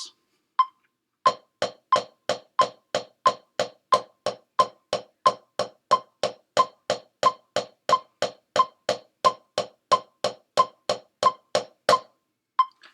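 A long, even run of sharp snare drum eighth notes at a steady moderate pace, each crisp hit clearly separated, played alone with no talking.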